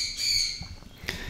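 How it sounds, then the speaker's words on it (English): A pet bird lets out a loud, shrill squawk up close indoors, followed by a short second call, with no talking. "my bird always yells like that"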